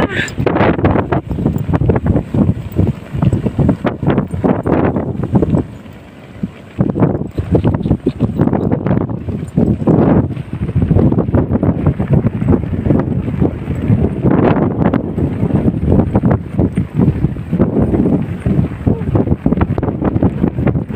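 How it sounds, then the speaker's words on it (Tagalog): Strong wind gusts buffet the microphone on Tinawagan Hills, roaring loudly and continuously with surging bursts and one brief lull. "Hangin."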